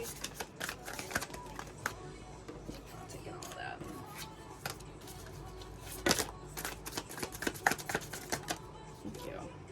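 Tarot cards being shuffled and drawn by hand, a run of close crisp riffling and snapping clicks in irregular bursts, with some quiet speech mixed in.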